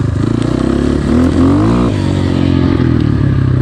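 A GPX FSE 250 E motorcycle engine on a trail ride in second gear, pulling with a loud, continuous buzzing drone that rises briefly in pitch as it revs, close up.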